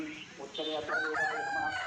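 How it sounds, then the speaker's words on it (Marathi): A hen clucks and crows nearby in a short, rising series of calls, fairly loud and clear. "ही कोंबडी बाहेर कस काय गेली"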